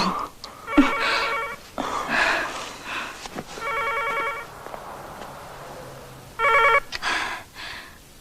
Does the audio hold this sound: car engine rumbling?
no